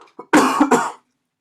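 A single adult cough, close and fairly loud, preceded by a short throat-clearing sound and breath, then silence; no speech around it.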